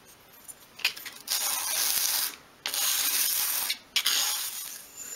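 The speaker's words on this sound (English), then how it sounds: "Just a few sweeps along your sandpaper, and then you've got a nice flat underside there." A 1/12th scale model pot is rubbed in one direction across sandpaper, giving several close, raspy sweeps separated by short pauses, with no talking.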